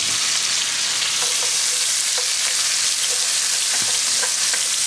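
Onions fry for chicken cacciatore in a pan, giving a steady, loud sizzle with occasional soft clinks of stirring, and no voices.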